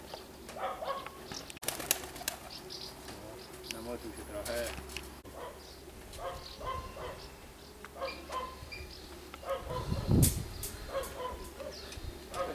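Racing pigeons return to a loft after a marathon race, with wing flaps, soft cooing and scattered bird sounds, while people talk nearby and a dog barks faintly at times.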